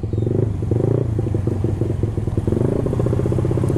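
Close, loud idle of a Honda Beat 115cc with an aftermarket racing exhaust, a steady chugging burble with irregular pulses and slight blips in throttle, no talking.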